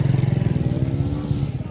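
A motorcycle near the Ganga ghats at Rajghat runs with a loud, rhythmic low engine putter and pulsing beat, close by and steady, with faint background clatter.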